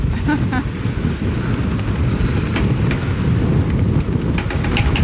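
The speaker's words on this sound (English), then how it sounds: "It's very windy" Strong wind buffeting the microphone in a continuous roaring rush, with faint voices barely audible underneath.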